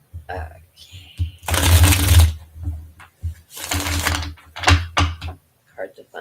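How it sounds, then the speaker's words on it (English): Playing cards shuffled by hand at a reading table, riffled in two loud, dense bursts with shorter riffs after, mixed with a few soft clicks and some brief talking between them. "They're shuffling better."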